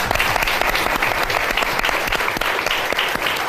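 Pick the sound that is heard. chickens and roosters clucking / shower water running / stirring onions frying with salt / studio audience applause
studio audience applause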